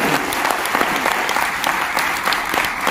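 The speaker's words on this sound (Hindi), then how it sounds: "इसलिए जोरदार तालियां बताइए अपने सीनियर लीडर्स" Audience at a Modicare business meeting breaks into sustained applause, a dense crackle of many hands clapping steadily throughout at close range.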